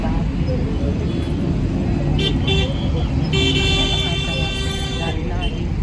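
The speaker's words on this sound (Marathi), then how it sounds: "कोल्हापूरचं ट्रॅफिक जाम आहे." Dense traffic jam on a Kolhapur road, with a steady engine rumble, several car horn toots through the middle and latter part, and voices talking over it.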